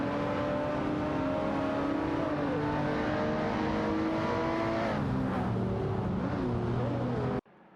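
Engines from a racing video game with a Ferrari Portofino and a Chevrolet Corvette drone steadily in layered, shifting pitches, running loud and continuous for about seven seconds before cutting off abruptly.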